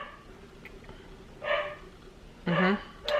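A dog barks a few times, with short sharp yaps coming in separate bursts against a quiet room background.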